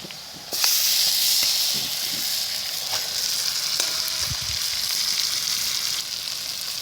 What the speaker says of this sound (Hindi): अब इसमें हमने मैरिनेट किया हुआ गोश्त शामिल कर देना है